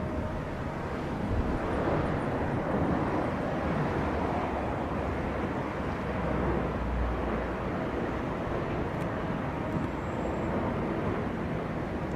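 A Southwest airliner lands on runway 07 at Montego Bay, heard as a steady, fairly faint broad roar with a slight low swell partway through and no talk.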